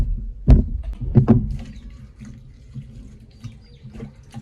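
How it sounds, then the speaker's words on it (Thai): Onions being washed under running water, with a few close splashes and sloshes early on followed by quieter trickling and light handling sounds. "นี่เขาจะมาล้าง หัวหอมพวกนี้เนาะ"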